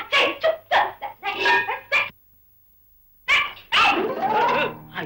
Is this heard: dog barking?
yes